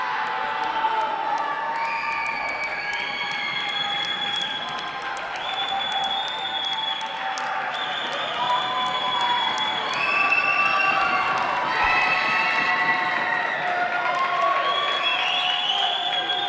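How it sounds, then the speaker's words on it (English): A gym crowd at a girls' high school basketball game, Durfee at Dartmouth, roars steadily with cheering, shouts and clapping, loud and sustained throughout without a break. "Crowd getting loud."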